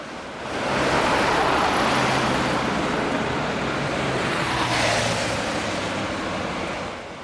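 A London Routemaster bus, RM 54, labours northbound across a bridge on the last day of Routemaster service in December 2005, its engine a loud, continuous rumble under traffic noise that swells in and then slowly eases.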